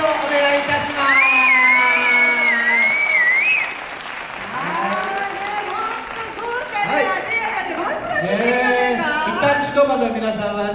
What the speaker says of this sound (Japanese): どうぞ大きな拍手をお願いいたします。